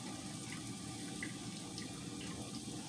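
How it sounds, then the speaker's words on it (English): Steady, dense bubbling and rushing water noise from a pot of water at a rolling boil for grits, continuous and fairly close with no talking. "my water then came to a boil."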